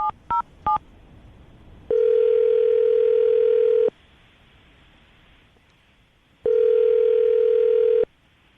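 Calling someone on the telephone: three quick dialing beeps, then two long, loud, steady ringing tones separated by a pause, with no talk.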